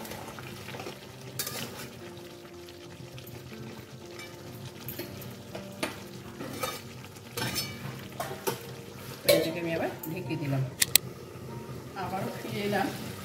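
Tomatoes and softened onions frying in a pan for a Bengali chicken and potato curry, with a low sizzle under spoon stirring and scraping, metal clinks of utensils, and a voice talking over parts of it.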